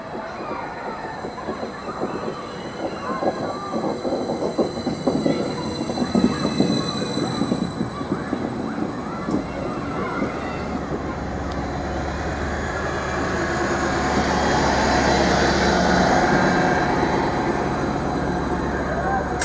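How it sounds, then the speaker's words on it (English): A Class 555 train arrives at a platform on the Ipswich line, its wheels clattering and squealing close by as it slows, then a steady rumbling hum as it settles in; a voice speaks briefly. "got the 1041 service to Ipswich, now arriving to platform 1"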